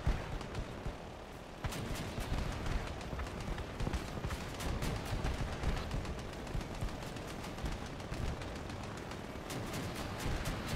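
Waltz rocket launchers on a vehicle in Crossout fire in rapid repeated bursts amid the continuous roar of battle, the sharp launches stacking densely and loudly over one another.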